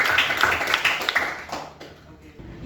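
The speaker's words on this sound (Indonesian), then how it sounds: "tepuk tangan untuk semuanya" A classroom of pupils claps hands for their teacher, a burst of quick, overlapping claps in the first second and a half that then fades into quieter room sound and murmuring voices.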